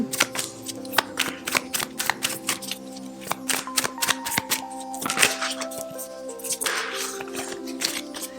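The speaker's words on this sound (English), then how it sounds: "I don't think I've ever had so many issues shuffling this particular deck." Cards being shuffled continuously, close up, a dense rapid riffling and slapping of cards with occasional sharper snaps.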